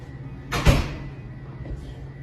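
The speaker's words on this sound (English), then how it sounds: "Did you hear the knock?" A single loud, dull knock sounds on a door in an empty store, followed about a second later by a fainter second thud against quiet background hum.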